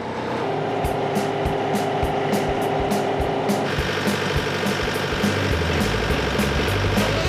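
A tractor digs up sweet potatoes on a farm, its blade depth set to the size of the tubers. It makes a steady, loud engine drone with a fast mechanical clatter running through it, and the pitch shifts partway through.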